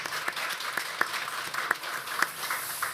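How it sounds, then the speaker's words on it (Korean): A church congregation at a Christmas Day service claps together to encourage the teachers, a soft even applause with a few sharper individual claps standing out over roughly three seconds. "한 마음으로 한번 박수로 우리 선생님들 한번 격려하면 좋겠습니다"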